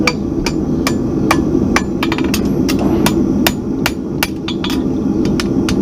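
A farrier hammers horseshoe clips on an anvil while shoeing an English Sport Horse, giving sharp ringing metallic strikes in a steady, mostly regular rhythm, loud and close over a constant low background hum.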